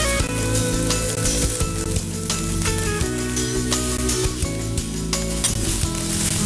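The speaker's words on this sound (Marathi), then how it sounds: "त्याच्यामध्ये पनीर घालायचं। तू परतत राहशील त्याच्याबरोबर।" Paneer stuffing sautéed in a pan gives a loud, dense, continuous sizzle with occasional stirring scrapes, close up and without speech, over a steady tonal hum.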